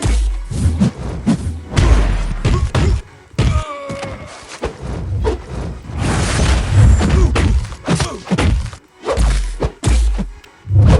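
Rapid, heavy thuds and whacks as a video game fighter, Black Cat, pounds an opponent's block, loud and dense with short bursts of repeated impacts and brief gaps between combos.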